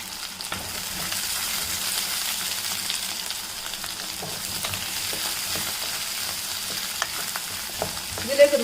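Chopped onion, ginger and garlic sauté in a pan for a Kerala-style chicken curry, giving a steady close sizzle with soft scraping stirs and a louder clatter near the end, with no talk.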